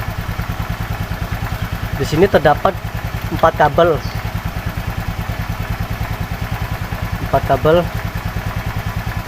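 A Honda Vario scooter's engine idles steadily nearby with an even, rapid low throb, while someone talks over it in several short bursts.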